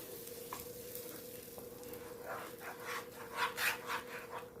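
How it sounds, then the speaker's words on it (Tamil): Ground moringa leaves fry in a pan for a thokku, giving a steady close sizzle with soft scraping stir strokes that grow louder and busier toward the end. "நம்ம அரைச்சி வச்சிருக்க முருங்கைக்கீரையை சேர்த்துக்கலாம் நல்லா மிக்ஸ் பண்ணிக்கலாம்"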